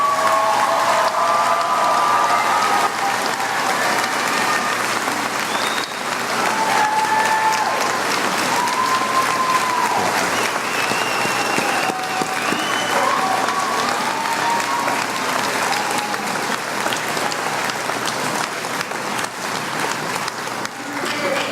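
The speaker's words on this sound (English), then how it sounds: "Audience, give these graduates a round of applause." Sustained applause from a large audience at a college graduation ceremony, steady and dense throughout, with occasional cheers and whistles rising above the clapping.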